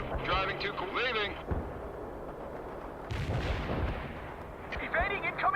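Heavy artillery booms and incoming fire from the World in Conflict strategy game, with deep rumbling blasts and a descending whistle, interleaved with radio-style unit voice callouts.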